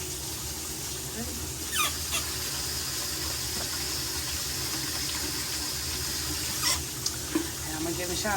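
Shower water running in a home bathroom: a steady, even hiss of spraying water with a faint squeak or two, continuous and moderately close throughout.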